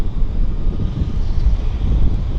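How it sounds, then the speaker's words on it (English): A float plane's engine drones loud and close, a thick low rumble with gusty wind buffeting, as the plane taxis backwards at Vancouver YVR airport. "There's the airplane going backwards."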